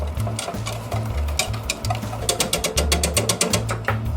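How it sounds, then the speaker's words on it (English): A whisk beats fudge pie filling in a bowl with quick, rhythmic clicking and scraping strokes that are close and fairly loud against a low background hum. "Stir that up and whisk it real well so that it's good and mixed."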